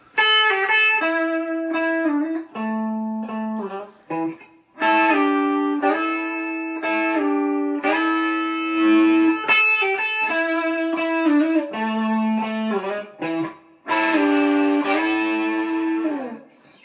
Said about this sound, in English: turn it down a little bit to lessen the distortion